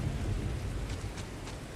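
Steady rain with a low thunder rumble in the Starfield video game, a dense continuous wash of falling water heard alone with no voices.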